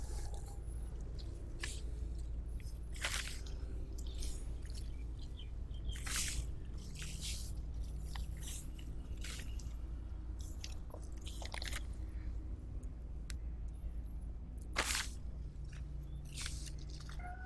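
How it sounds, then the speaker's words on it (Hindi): Potting soil being mixed by hand with sand and other ingredients for a pot, giving repeated close crunchy, gritty scrapes and squishy rubs in short bursts over a steady low background hum, with no talking. "अब इनको मैं अच्छे तरीके से मिक्स करता हूँ"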